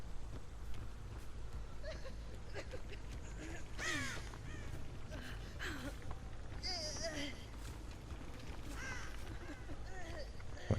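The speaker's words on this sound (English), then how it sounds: "I saw a crow fly there, so I know someone is near this hook." Crows caw in the horror game Dead by Daylight, a few short caws spaced several seconds apart within a dense, busy mix of game noise and voices.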